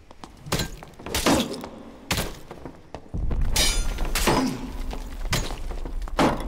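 Melee clashes from a Dark and Darker fight, a shield blocking longsword strikes: several sharp, loud thunking impacts spaced about a second apart, with a heavier dull rumble running through the second half.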